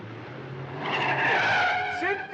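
Car tires skid and screech during a chase in a 1962 film, a rising squeal that swells loud for about a second before easing, with low engine rumble underneath.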